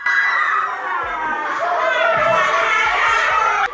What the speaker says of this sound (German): Die Kinder kreischten auf.